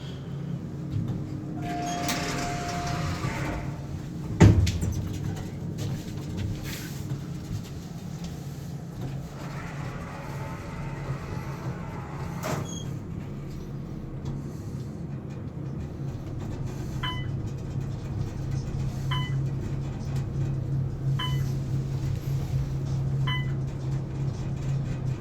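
An Otis Elevonic 411M elevator at Harborview House Apartments slows and stops at a floor, a steady low hum with a sharp clunk early on, then faint repeated chimes and a continuing drone.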